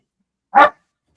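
A person imitates a single short dog bark, loud and close, during a lively live NFL draft trivia show, standing alone with near silence around it.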